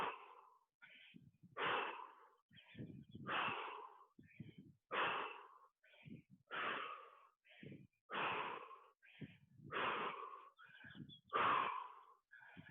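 Someone takes deep breaths during an at-home bodyweight warm-up, about eight slow close inhale and exhale cycles in an even rhythm, with no talk.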